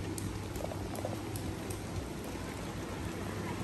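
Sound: rain

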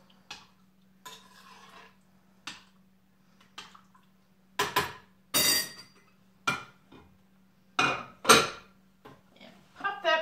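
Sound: stirring meatballs in microwave soup

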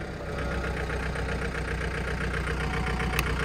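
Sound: John Deere 4720 tractor engine idling, almost stalling

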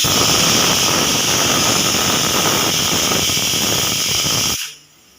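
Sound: pressure cooker hissing steam while cooking peas

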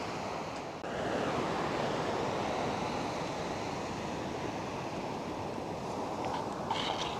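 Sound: ocean waves crashing on beach

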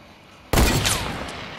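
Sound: gunfire in Fortnite, a video game

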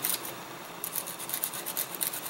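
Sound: quick sanding with a hard sanding stick

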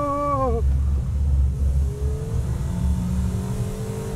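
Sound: sports compact car accelerating at full throttle on track

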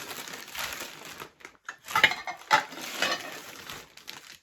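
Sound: plates clinking while being unpacked

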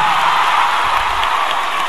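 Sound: concert audience applauding and cheering

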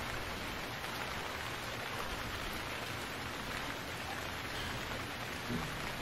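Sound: rain in the video game Stranded Deep

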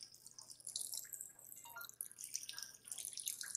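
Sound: running water in video game Job Simulator

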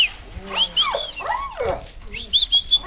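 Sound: pitbull dogs barking and whimpering

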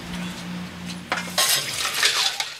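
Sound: washing dishes

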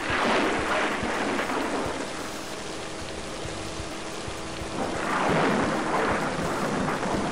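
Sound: thunder and rain in the video game Driver

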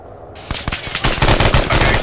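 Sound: AK rifle gunfire in ArmA 3 video game

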